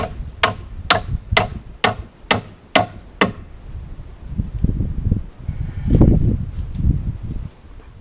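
Hammer blows drive porch floor joists into place on an off-grid cabin build, about eight sharp, evenly spaced strikes in quick succession, then quieter rustling and shuffling work sounds.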